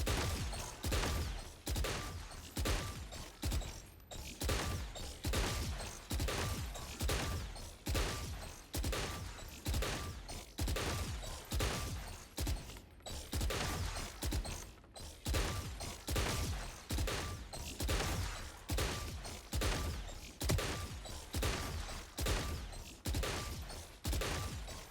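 Rapid, evenly spaced gunshots ring out in Valorant aim training against bots. The sharp, loud shots repeat in a steady rhythm for the whole stretch, with no one talking.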